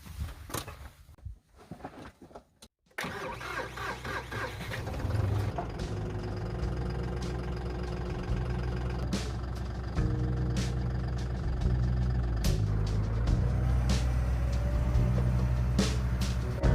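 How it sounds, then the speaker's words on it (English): A John Deere diesel tractor engine cranks, catches and starts, then runs at a loud, steady idle up close, revving slightly higher toward the end. "We are going to be firing up our John Deere tractor"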